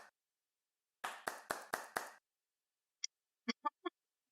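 A handful of people clap five sharp, evenly spaced times at close range, then fall silent before a few faint clicks follow; the claps are too few and too separate to sound like a full audience round of applause.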